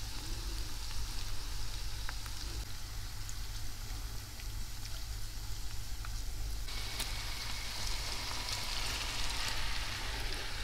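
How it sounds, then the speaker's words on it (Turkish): Onions and tomato paste sauté in a pan, a soft steady sizzle and crackle that stays quiet and close throughout, with no talk. "Salçamızın hafif kokusu çıkana kadar kavuralım."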